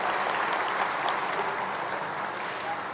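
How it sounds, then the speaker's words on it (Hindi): An audience at a poetry recital claps in a dense, steady round of applause for a few seconds, with no voices over it. "अगर प्रस्तुति पसंद आई है तो जोरदार तालियां"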